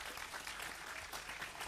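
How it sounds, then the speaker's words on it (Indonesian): Steady applause from an audience at a Pagar Nusa pencak silat gathering, dense clapping filling the whole stretch at even loudness, with no voices standing out. "Tepuk tangan untuk Pagar Nusa."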